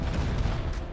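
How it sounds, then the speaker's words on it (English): Rocket blasts in a Rust console match, a dense low rumbling boom filling the whole second, loud and sustained with no voices over it. "Rockets!"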